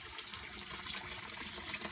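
Water spills steadily from a homemade waterfall into a backyard goldfish pond, making a soft, even splashing rush that stays constant throughout with no talk.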